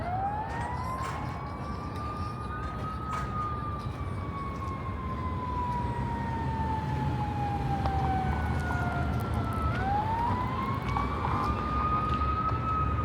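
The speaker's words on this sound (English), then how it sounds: "I think the sirens are probably going to stop right there at Fremont." An emergency vehicle siren wails, sweeping up and down in long slow cycles over steady daytime traffic rumble near Fremont Street, Las Vegas, moderately distant and continuous throughout.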